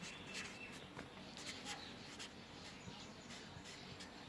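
Marker or chalk writing on a board during a maths class on number systems, a quiet run of scratchy strokes and taps that keeps going for a few seconds in a room with some background noise.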